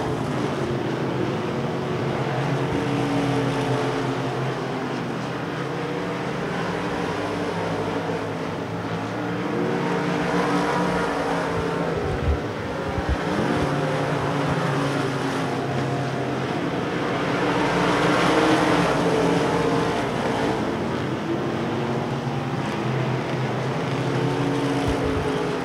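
Race cars roar around the heavy dirt oval of Devil's Bowl Speedway, a dense, continuous engine drone that swells and fades as the field circles, with a louder surge near the end.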